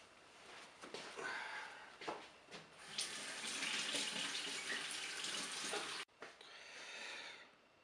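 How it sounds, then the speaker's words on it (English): Water runs from a tap as brewery equipment is rinsed out after cleaning with sodium percarbonate, a steady close hiss and splash that briefly cuts out, then resumes. "I'll just rinse it out under the tap."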